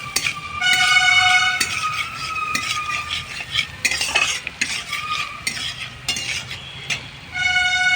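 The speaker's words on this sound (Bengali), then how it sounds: "একটু নেড়ে নেবো আমি ভালো করে।" Chopped garlic and green chilies being stirred in a hot pan for chow mein with purple cauliflower, a steady close scrape of utensil on metal over continuous sizzling, with brief clinks, no talking.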